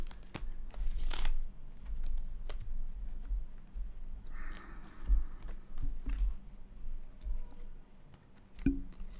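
A deck of tarot-style cards is shuffled by hand close up, giving soft riffling bursts and scattered light ticks and taps, fairly quiet, with no talk.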